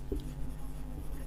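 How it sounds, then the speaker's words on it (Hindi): Writing on a board during a chemistry lesson, a short faint scratch of strokes against a quiet room hum, with no talking. "तो यहाँ पर लिख देते हैं"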